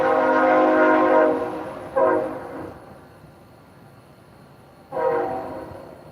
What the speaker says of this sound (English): oh, you'll have to excuse the train.